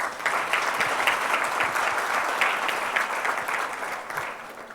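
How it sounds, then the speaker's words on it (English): A warm round of applause from a management-day audience welcoming a speaker, steady close clapping from many hands that holds evenly, then tapers slightly near the end. "do welcome him with a warm round of applause."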